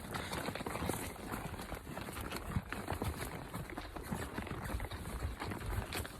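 Horses walking on an Idaho mountain trail during a hunting trip, their hooves clopping in a loose, continuous patter up close, with no talking.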